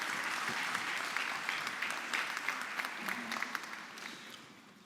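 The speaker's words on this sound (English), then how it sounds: "Another round of applause," Applause from an audience at a science week closing ceremony, a continuous patter of many hands with a few sharper individual claps, moderately loud and gradually fading toward the end.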